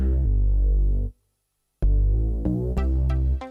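A vintage Roland Juno-60 synthesizer plays sustained chords under MIDI control, rich and droning, breaking into a brief silence and then resuming with a few sharp plucked accents, without any voices.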